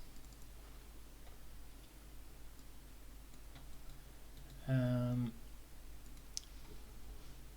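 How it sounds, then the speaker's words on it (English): Rapid computer mouse clicks come from someone building a game in Unreal Engine 5. The faint, quick clicks sit over a low steady hum, with a brief louder tonal blip near the middle. "I'm sorry if I'm clicking fast."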